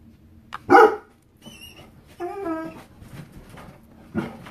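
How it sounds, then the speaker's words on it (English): A dog shut behind a closed door lets out a loud bark, then whimpers and yips more faintly through the door, with short quiet gaps between sounds. "My dog's mad because they shut the door on him."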